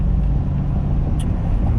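Steady low rumble of a truck hauling a trailer downhill on an engine brake, a constant loud drone with no break and no talking.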